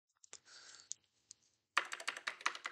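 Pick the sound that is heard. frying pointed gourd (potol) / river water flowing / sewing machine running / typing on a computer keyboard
typing on a computer keyboard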